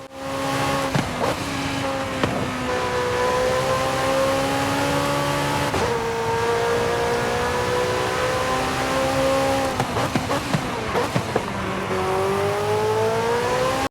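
A McLaren 650S Spider's 3.8-liter V8 revs loud and close in Forza Horizon 5, pitch climbing steadily through each gear with brief dips at the shifts, running on its own with no talk.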